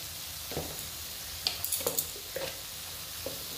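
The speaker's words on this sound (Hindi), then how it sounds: "थोड़ा भून लेते हैं ताकि इसका कच्चापन जो है निकल जाए।" Potatoes and elephant foot yam fry in a pan with garlic, a steady soft sizzle running throughout, broken by several light stirring scrapes and clicks near the middle.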